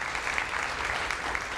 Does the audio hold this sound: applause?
yes